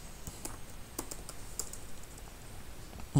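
Someone types on a computer keyboard, giving close, light clicks in an irregular patter with a few sharper keystrokes, and no voice.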